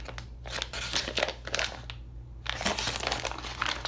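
A reusable plastic bag crinkling and rustling in irregular bursts, close and fairly loud, with a brief pause before the handling resumes.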